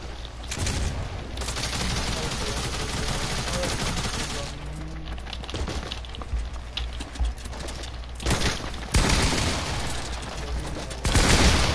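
Rapid video game gunfire rattles through most of the stretch, with bursts of automatic fire and scattered shots over constant game noise and a few brief lulls.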